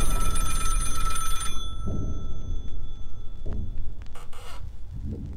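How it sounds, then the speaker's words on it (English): An old rotary telephone on a bedside table rings loudly with a shrill, metallic bell in a short horror film. The ringing stops abruptly after about a second and a half, followed by a few dull clunks and rustling. "One of those rotary phones I remember seeing at my grandma's house rings loudly from the bedside table."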